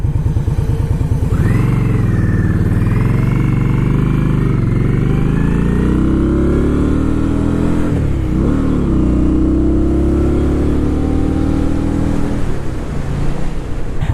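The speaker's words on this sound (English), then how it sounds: "we're riding the Indian Scout 60." Liquid-cooled Indian Scout 60 motorcycle of about 900 cc with ABS being ridden, its engine droning loud and close, the pitch rising through gear changes with brief dips between shifts.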